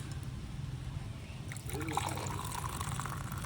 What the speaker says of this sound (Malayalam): ഗ്ലാസ്സിൽ ഒഴിച്ചിട്ടാം